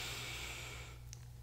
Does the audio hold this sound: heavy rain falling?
no